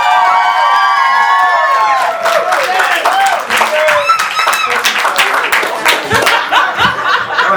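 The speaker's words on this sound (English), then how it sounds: "Give a round of applause, Sanjay, too, please." A crowd breaks into loud applause and cheering, with shouted whoops and voices ringing out at first, then a burst of close, sharp hand claps mixed with laughter and chatter.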